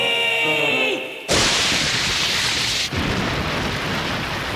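A sharp cartoon lightning crack bursts in, followed by a loud, sustained crackling rumble of thunder and rain-like noise with a second surge near the end, from the Ren and Stimpy episode City Hicks.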